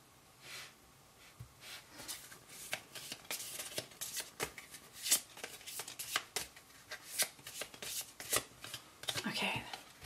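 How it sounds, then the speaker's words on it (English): Lenormand tarot-style deck being shuffled by hand, a close, steady run of papery riffles and slides with soft card slaps, continuing alone without speech. "I'm just going to continue shuffling"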